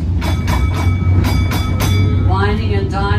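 Auckland's Dockline tram runs along Jellicoe Street in the Wynyard Quarter, a loud, close rolling rumble with rhythmic rail clacks and a squealing wheel whine toward the end.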